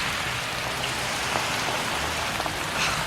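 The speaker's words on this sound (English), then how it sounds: "Why can you never get a taxi when it's raining?" Rain falling steadily on a surface, a continuous broadband hiss of drops, close and even throughout with no voices.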